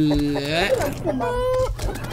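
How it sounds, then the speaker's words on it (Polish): A chicken clucks and warbles in Terraria, the trojan chicken sending several wavering, pitch-sliding calls over a running backdrop of game sound. "O, trojan chicken."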